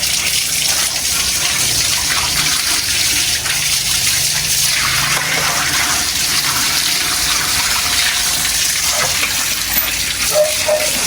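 Water gushes steadily as a farm animal is bathed over a floor drain, a loud continuous splashing rush running unbroken throughout.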